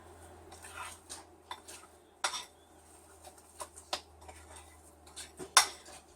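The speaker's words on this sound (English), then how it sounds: "so just mixing it all up" A spoon scrapes and clinks irregularly against a bowl while thick homemade peanut butter cookie dough is stirred, soft close taps and scuffs with quiet pauses between strokes.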